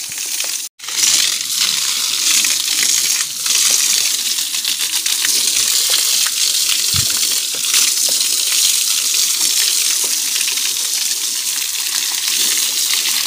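Water splashes and gushes steadily while a cow is bathed outdoors in a village: a loud, continuous rushing spray close by, briefly cut off at the start, with an occasional knock.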